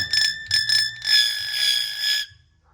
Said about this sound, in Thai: เสียงระฆัง